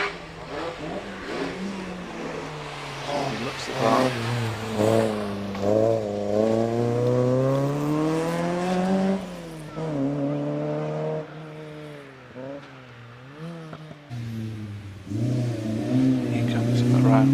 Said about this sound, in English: Derek Wilkins in the Mark 1 Golf GTI